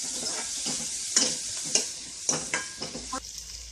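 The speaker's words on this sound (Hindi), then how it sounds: "इसको भी अच्छी तरह मिक्स कर देंगे।" Green chilies and turmeric powder stirred in a hot frying pan, a soft steady sizzle with repeated scraping strokes of the spoon against the pan, close and moderately quiet, no talking.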